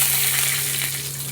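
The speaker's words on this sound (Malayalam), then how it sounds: "കടുകും ഉണക്കമുളകും കറിവേപ്പിലയും കൂടിയിട്ട് വറുത്തെടുക്കണം." Mustard seeds, dried red chillies and curry leaves frying in hot oil in a pan, a loud, close, continuous sizzle with no talking.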